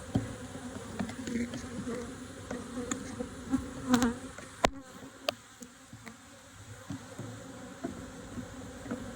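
Honeybees buzz steadily around an opened beehive in spring, a close, continuous droning hum with scattered clicks and knocks from handling the hive and no talk.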